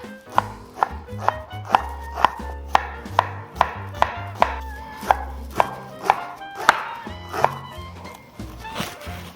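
Steady rhythmic knife chops on a cutting board, mincing onion at a quick even pace, close and crisp over a low background hum.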